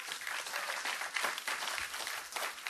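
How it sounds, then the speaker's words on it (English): An audience applauds steadily in a church setting, a dense wash of many hands clapping together at moderate volume throughout, with no pauses. "But listen, you're clapping now."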